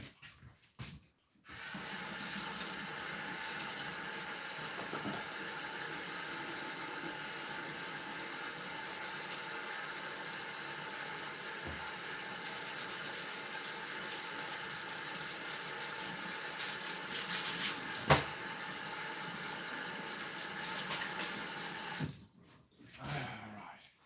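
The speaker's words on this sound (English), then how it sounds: "I'm going to wash my hands." Tap water runs steadily into a sink while hands are washed, a continuous close hiss that starts abruptly and cuts off near the end, with faint clinks under it.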